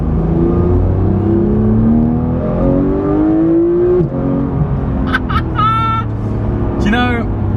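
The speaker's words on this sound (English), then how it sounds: "there's still that sort of idle chunter that you got from the 997" A Porsche 991 GT3 with a Metzger engine idles with a lumpy chunter, a loud steady low drone with faint whirring, then brief voices break in near the end.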